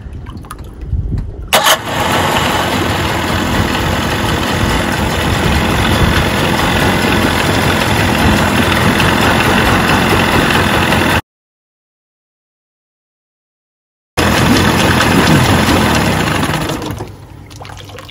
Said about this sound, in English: we are going to start the engine, let it run for about 5 minutes